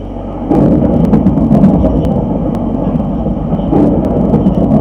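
A thunderclap from a lightning strike in Minecraft 1.5.2 booms in with a loud, deep rumble, then rolls on steadily for several seconds.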